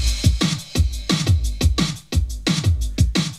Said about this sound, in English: So the drum section on its own sounds something like this